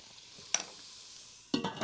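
Onion frying in bacon grease in a pot being stirred, a quiet sizzle broken by a brief scrape and then a louder burst of stirring and crackling near the end.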